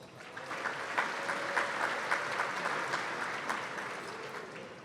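Crowd applause at a medal of valor ceremony following a list of retired honorees, an even, moderately distant wash of clapping sustained throughout.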